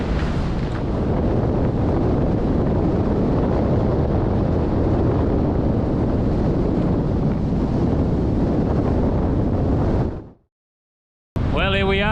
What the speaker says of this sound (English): The wind is strong, it's a strong steady wind.